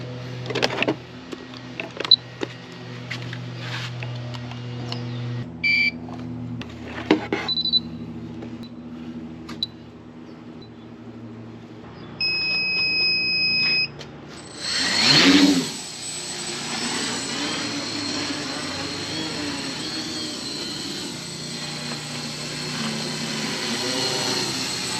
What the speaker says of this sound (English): I should be able to legally fly this drone.